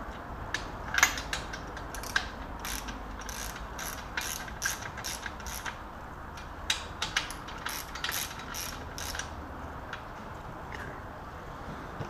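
A crankshaft turns by hand in a BMW M10 engine block during bottom-end assembly, giving a run of fast, light mechanical clicks and ticks in close, quiet bursts.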